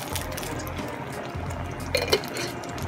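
Marinara sauce poured into a pot while cooking a doughnut cheeseburger, a soft continuous wet pour with faint clinks of cookware and a couple of brief louder knocks near the end.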